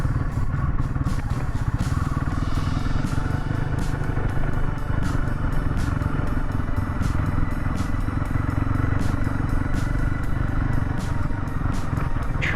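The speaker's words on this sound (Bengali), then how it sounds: "বাইক চালিয়ে আমরা চলে এসেছি পাহাড়ে।" A motorcycle engine rumbles steadily and loudly throughout the ride on a hill road through Belpahari toward Purulia, with rattling and wind noise mixed in.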